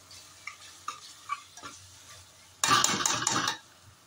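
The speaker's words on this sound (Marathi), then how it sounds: "थोडं 5 मिनिट असं हलवून द्यायचं जरासं." A spoon clinks lightly against a pot a few times while red chana curry is stirred, then a louder burst of scraping and sizzling follows, all close and with no talking.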